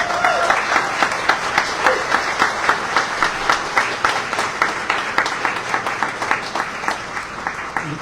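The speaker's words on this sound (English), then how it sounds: "Can we give a round of applause for our staff?" An audience at a grocery store opening celebration claps steadily and energetically, the many hand claps falling into a brisk, almost rhythmic pattern throughout.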